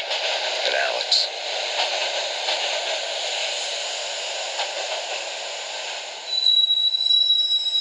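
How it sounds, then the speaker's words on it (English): Train ride in the Max Payne Mobile video game: a continuous rolling carriage hum with faint rhythmic clicks, then a thin high wheel squeal rising near the end. "the train doors had already shut behind me, and I was in for the ride"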